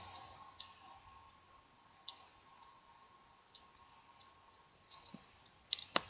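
Sharp computer mouse clicks while a menu category is edited on a website, a few isolated faint taps spread out, then a quick cluster of clicks at the end, alone in a quiet room.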